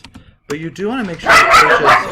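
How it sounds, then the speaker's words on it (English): A dog barks in short, sharp bursts at the mailman indoors, loud and close, mixed with someone talking over it. "I apologize for the barking."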